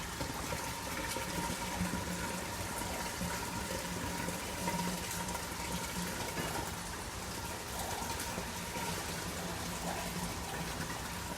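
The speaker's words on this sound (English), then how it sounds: "We're going to go ahead and dump out her water into our drain here" Water from a pet's dish poured down an indoor drain, a steady, continuous splashing and gurgling rush that runs unbroken, fairly close and moderately loud, with no talking.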